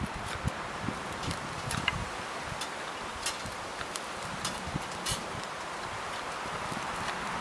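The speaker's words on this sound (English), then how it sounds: "it's a nice windy day today" Wind blows steadily outdoors, rustling leaves in a constant broadband hiss with scattered soft ticks and crackles over about seven seconds, with no one talking.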